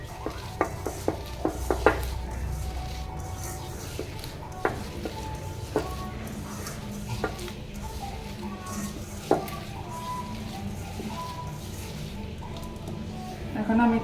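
Shrimp being kneaded by hand with cumin paste, wet squelching and soft slapping with occasional sharp clicks against a bowl, steady and close throughout.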